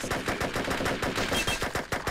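Rapid automatic gunfire from the first-person shooter game Offensive Combat: Redux, a dense, loud stream of shots rattling nonstop with no voices.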